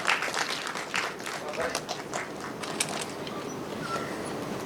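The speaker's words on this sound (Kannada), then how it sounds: "ನಮ್ಮ ಪ್ರೀತಿಯ ಮಾಲ್ತಿ ಸುಧೀರ್ ಅವ್ರಿಗೊಂದು ಜೋರಾದ ಚಪ್ಪಾಳೆ ಬರಲಿ" An audience at a stage launch event for a Kannada television serial applauds in a dense, steady patter of many hands, with crowd noise mixed in throughout.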